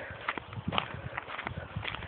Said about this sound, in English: Oh, there's Dolly. Hello. Fat horse